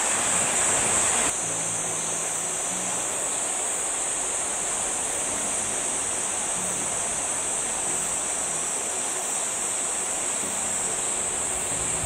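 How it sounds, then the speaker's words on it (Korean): Water in a mountain stream flowing along a forest trail in Naejangsan National Park, a steady, full rushing wash that continues unbroken and fairly close throughout. "개울가에서 물소리를 들으며"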